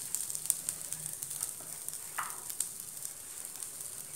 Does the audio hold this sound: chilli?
yes